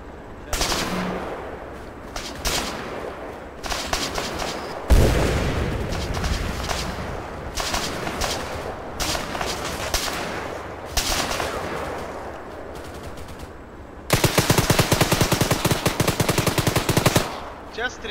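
Machine-gun bursts and single shots crackle across a video game battlefield where an enemy armored personnel carrier is the target, coming in repeated loud volleys with a dense sustained stretch near the end, while voices talk over the fighting.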